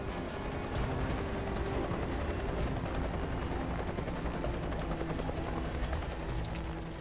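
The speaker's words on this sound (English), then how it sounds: "the helicopter lifts a second person from the river" Steady, loud rotor and engine roar of a helicopter hovering close by over a river during a rescue, a continuous churning drone with no talk.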